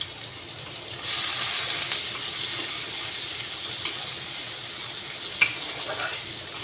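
A large onion fries in oil over a high gas flame, with a steady, fairly loud hissing sizzle that starts suddenly and holds, plus a single sharp pop near the end.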